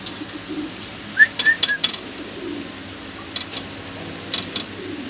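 Two female pigeons in a cage at a farm give a few soft coos and short whistling calls in scattered bursts against a quiet background.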